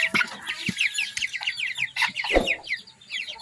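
Broiler chickens about sixteen days old cluck and chirp in a coop, a dense, close chorus of overlapping calls with a few louder squawks, no talking.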